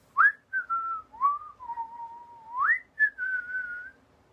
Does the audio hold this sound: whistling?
yes